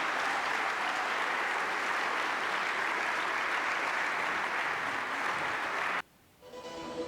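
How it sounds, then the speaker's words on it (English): Spectators at a high school boys basketball game applaud in a long, even burst of clapping that fills the gym, then stops abruptly near the end, leaving quieter room sound. "How about one final round of applause for Gabe Hoy and Darius Radfar?"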